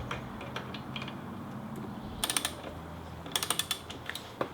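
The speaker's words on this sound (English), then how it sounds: "I'm going to take this wrench and I'm going to tighten it." A wrench tightening the rear wheel of a motorcycle gives two short bursts of quick ratcheting clicks over a low, steady background hum.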